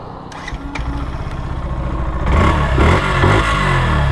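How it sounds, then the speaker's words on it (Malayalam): A Yamaha FZS BS6 motorcycle engine cranks and catches, then settles into a steady, close mid-pitched running note that grows louder and fuller in the second half, with no talk over it. "അപ്പോൾ ഞാൻ ജസ്റ്റ് വണ്ടി ഒന്ന് സ്റ്റാർട്ട് ചെയ്ത് കേൾപ്പിക്കാമേ"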